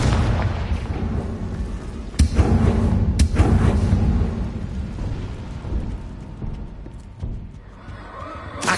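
A Confringo blasting curse explosion in the video game Hogwarts Legacy, sharp bursts landing amid a dense rumbling battle mix with a horse neighing, loud and close, with heavy low-end booms.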